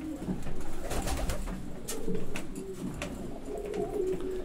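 Viennese flight pigeons coo in soft, repeated low calls while eating, close by, with faint pecking and rustling between the coos and no talking.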